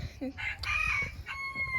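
Laying hens cluck and squawk close by in a short, busy burst, with brief bird calls over a low background rumble.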